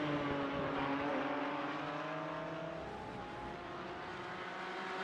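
Porsche race cars from iRacing at Road Atlanta roar together in a close battle for position, steady engine drones with shifting pitch sustained throughout, loud and continuous with no talk.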